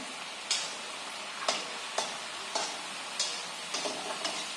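Small pieces of khari shankarpali fry in oil over a low flame with a continuous soft sizzle, broken by several light clicks and stirs of a utensil at roughly even intervals, with no voices.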